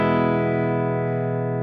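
Clean electric guitar through an HX Stomp set to a Fender Princeton-style preamp, a single chord ringing out steadily with no breakup, close and alone.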